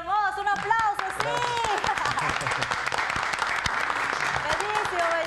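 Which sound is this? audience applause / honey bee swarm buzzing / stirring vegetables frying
audience applause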